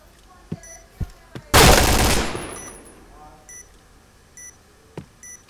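Automatic weapon fire in an online shooter game: a dense burst of rapid shots lasts under a second, followed by scattered single cracks and small electronic beeps.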